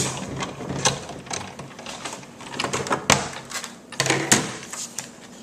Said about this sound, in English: I'm going to take again the embossing folder between the acrylic sandwich and run it through our big shot